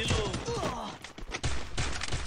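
Gunfire bursts during a 4x4 online shooter match, loud and close, with short rattling volleys and thuds over game effects and a sweeping tone.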